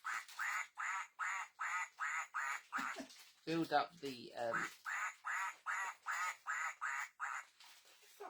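An Easter novelty sound-machine toy plays a duck quacking in a steady, evenly spaced loop of electronic quacks, briefly broken by a person talking close by before the repeating quacks carry on.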